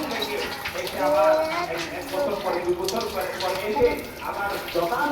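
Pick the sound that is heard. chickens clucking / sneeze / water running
water running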